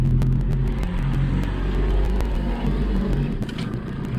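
A tractor engine runs steadily nearby at an outdoor fire pit site, a loud continuous rumble with a little rhythmic chugging and no talking.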